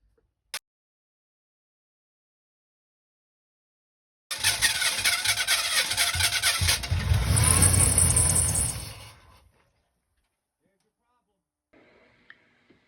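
A GM 5.7 Vortec pickup truck engine with an intermittent no-spark ignition fault cranks and catches, then runs at a steady rumble for several seconds before shutting off, with a faint click and low noise after.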